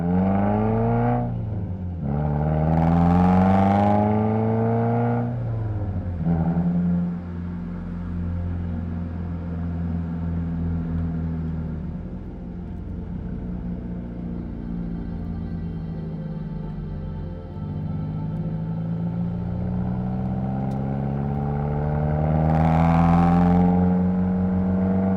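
A car drives along a gravel road, its engine droning steadily throughout with two louder surges near the start and one near the end, all heard from inside without talk.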